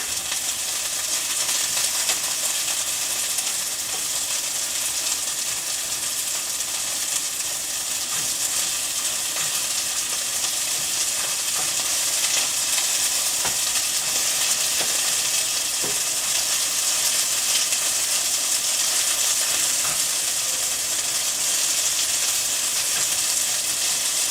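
Beef and beans stir-frying in a pan for a sesame ginger beef noodle dish, a steady loud sizzle and hiss throughout with occasional light pops and stirring clatter.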